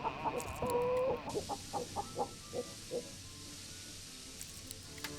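A chicken in the space survival game Breathedge clucks in a short run of evenly spaced, close clucks, preceded by a brief electronic tone, then quiet.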